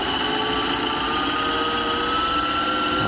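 A Timemore Sculptor 078 electric coffee grinder motor running with a few leftover coffee grounds inside, giving a smooth, steady, close whir with a constant tone and no pauses.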